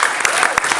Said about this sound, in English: Round of applause for Eddie.